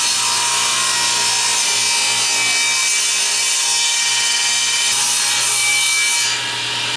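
A table saw cuts a taper along a wooden table leg held in a tapering jig, a steady, loud, continuous sawing whine with a faint low hum beneath it, easing off slightly at the end.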